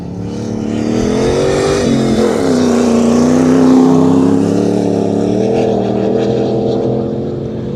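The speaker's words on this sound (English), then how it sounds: "Just casually cruising about, making the diesel purr." A diesel car at a motorkhana stage runs hard in a steady, loud, close engine drone, its pitch rising and sagging slightly as it revs and cruises across the dusty course.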